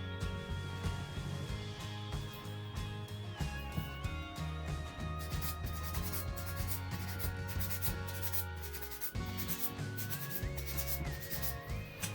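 A nail file passes over acrylic press-on nails, making soft continuous rubbing and rasping strokes that sit beneath steady background music.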